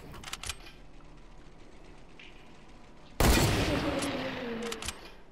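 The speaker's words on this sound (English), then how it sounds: "Oh, people shooting at me." Gunfire in the Fortnite video game: a few sharp scattered shots, then a sudden loud burst of rapid automatic fire that sustains for about a second and a half before trailing off, with faint background game noise.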